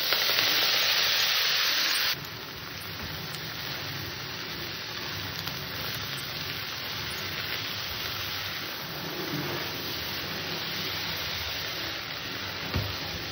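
Greens tossed into hot oil seasoned with garlic and radhuni seeds give a loud, steady sizzle, brighter and harsher for the first two seconds, then settling into a dense crackling hiss.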